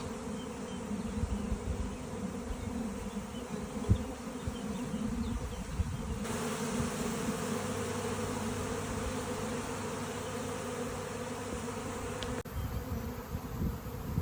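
A swarm of honeybees flies all around outdoors, a dense and constant buzzing hum that holds steady throughout, close and moderately loud.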